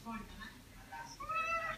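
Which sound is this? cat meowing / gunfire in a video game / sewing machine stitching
cat meowing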